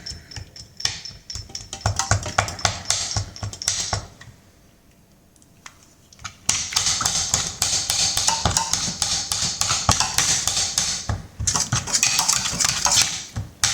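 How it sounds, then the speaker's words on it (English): Beans with salt and onion powder are mashed and stirred in a pot, giving repeated close clattering and scraping of utensil against cookware, pausing briefly before resuming in a dense, busy rhythm without talk. "And I mash and I stir."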